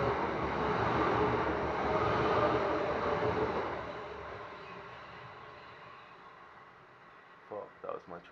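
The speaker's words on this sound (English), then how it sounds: "that was my train" A train passes nearby with a loud, broad rumble that fades away over several seconds, and then brief talk follows.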